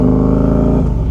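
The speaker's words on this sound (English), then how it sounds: "This Can-Am is a bad influence on me. It's just so loud." A Can-Am off-road vehicle engine revs loud and close, a steady deep throaty drone that dips slightly near the end, heard alone.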